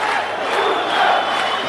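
Crowd at ACB 67, a mixed martial arts event in Grozny, roaring and cheering as one loud, continuous mass of voices that fills the arena.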